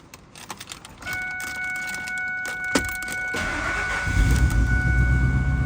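A 2000 Ford F250 Super Duty with a 5.4L Triton V8 and 142,000 miles starts up: keys jingle, chimes sound, the starter clicks and cranks, then the engine catches and settles into a loud, close idle.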